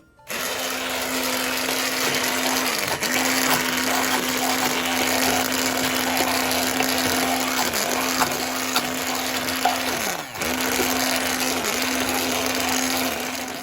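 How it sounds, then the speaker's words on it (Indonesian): An electric blender whirs loudly and steadily at close range, blending ingredients for chicken meatballs, its motor dipping briefly a few times as it churns, with no talking. "Nah, aku blender ya semua bahan-bahan yang tadi."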